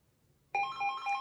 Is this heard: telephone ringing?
yes